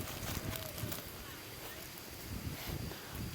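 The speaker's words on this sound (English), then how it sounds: "now it's like really windy" Strong wind blows outdoors in an orchard area in Laos during a windstorm, a steady loud rush buffeting the microphone throughout with no clear pauses.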